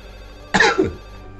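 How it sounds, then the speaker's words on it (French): A short electronic telephone-like ring bursts out of a box in a video game, a single brief trilling tone lasting about half a second, loud and alone against quiet background. "C'est un téléphone qui est dans cette boîte"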